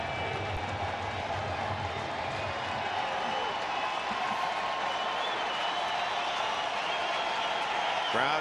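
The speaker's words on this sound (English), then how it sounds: "Crowd coming to life here at GABP." A baseball crowd at Great American Ball Park comes to life with a steady swell of applause and murmuring cheers, broad and distant-sounding, continuing without a break.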